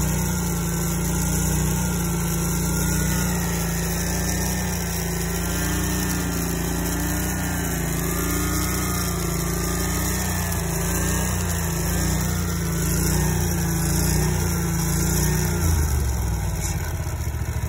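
Scag hydro-drive commercial lawn mower engine running steadily and loud up close, a constant droning idle with a faint whine above it, easing down near the end.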